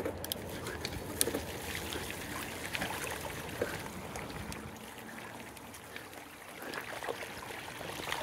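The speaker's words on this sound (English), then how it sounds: "Alright, we've still got water over the track." Water splashes and trickles as a mountain bike rides through a flooded section of a dirt track on a farm, a continuous wet hiss with scattered crackles and clicks, no voices.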